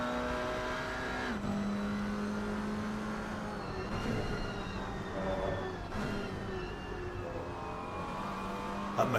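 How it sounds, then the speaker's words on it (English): McLaren GT4 race car in a sim racing championship at Imola, its engine a steady droning tone that climbs and drops through gear shifts, with other cars' engines mixed in, loud and continuous. "that McLaren sounds quite different, doesn't it, than all these other cars"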